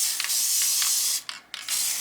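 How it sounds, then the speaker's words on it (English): Spray adhesive hisses from an aerosol can in a few steady bursts, close and fairly loud, with a short pause near the end, while coating a giant DIY Christmas lollipop decoration inside a box. "and then I take my spray adhesive."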